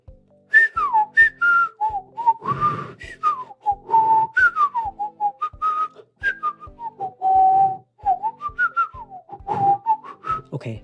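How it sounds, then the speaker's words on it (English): A person whistles a lively tune alone, with clear sliding notes in short phrases and brief pauses between them. A faint steady tapping beat sits underneath. "I can whistle. I love to whistle a lot."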